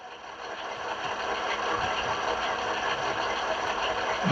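Model Santa Fe diesel locomotive with DCC sound effects, a steady idling diesel rumble with a faint rhythmic throb that builds slightly in loudness.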